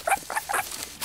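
A person imitates a wallaby with a rapid series of squeaky, sniffing chirps and pattering breathy noises, close to the microphone and loud, with no other talk in between.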